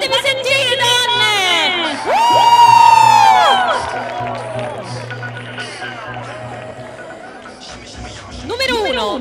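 Women in the audience at a beauty pageant shout, whoop and cheer loudly in a lively crowd, swelling to a peak in the middle before fading, with a fresh burst of cheering at the end.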